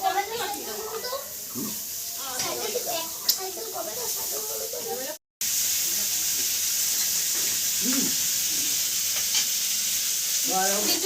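Onions and potatoes frying in hot oil in a home kitchen, a continuous close sizzle and hiss with occasional stirring scrapes, a short break partway through, and people talking over it.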